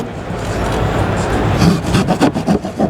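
A hand saw cuts an opening through drywall for an in-wall TV mount, heard close up as steady rasping that turns into rhythmic back-and-forth strokes.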